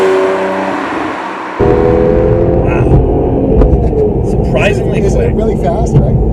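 A BMW 1 Series M car pulls away under acceleration, its engine rising into a loud, steady drone after a sudden jump in level, heard from inside the cabin with a person talking over it.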